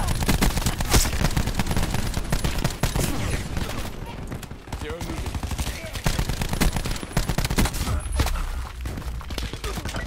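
Sustained rapid gunfire in Call of Duty: Black Ops 4 multiplayer, a dense, loud stream of automatic shots with scattered thuds running through the whole stretch.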